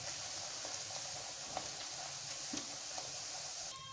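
Aloo poori, potato-filled puri, sizzles steadily in hot oil while being pressed, a dense, even crackle with occasional soft pops from the pan.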